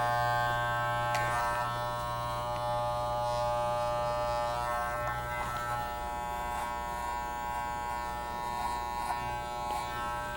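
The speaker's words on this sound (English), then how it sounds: "now we're going to shave the head" Electric clippers buzz steadily while shaving a dog's head during grooming, a close, continuous hum with harmonic whine and small shifts in tone as the blade moves through the hair; no talking.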